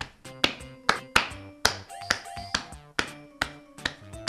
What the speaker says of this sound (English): When you clap your hands, a sound is produced.